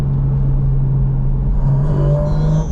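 A GT4 RS sports car engine hums steadily, then its pitch climbs as it revs, loud and close with no talking.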